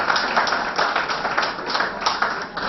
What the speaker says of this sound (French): Applaudissez une fois encore pour Madame Arielle Vivant.